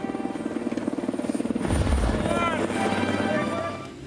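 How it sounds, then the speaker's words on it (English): A helicopter's rotor thumps in a steady rapid beat, loud and close, swelling as it nears, with voices talking over it. "It's a helicopter, I know it is."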